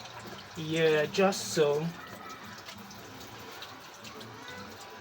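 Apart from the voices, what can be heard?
water running while washing hands at a tap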